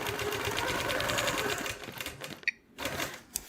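A sewing machine runs steadily for free-motion ruler quilting, stitching a mini chevron in straight lines, its fast, even chatter continuing for over a second and a half before pausing with a couple of small clicks.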